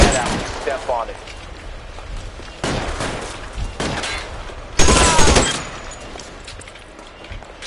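Gunfire in the video game L.A. Noire, several sharp bursts of shots with a heavy volley near the five-second mark, set against background noise and shouted voices.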